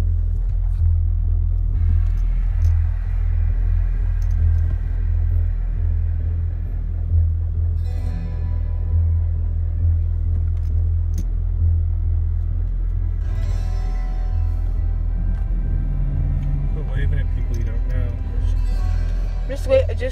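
Cars rolling through a crowded parking lot at a Six Flags amusement park, giving a continuous low engine rumble with a few passing surges, while people talk nearby.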